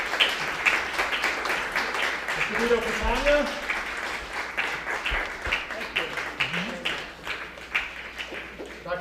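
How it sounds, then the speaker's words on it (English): Audience applause at a school board of education meeting, a moderate, sustained clatter of clapping beneath a man reading names aloud. "Yes, you can applaud."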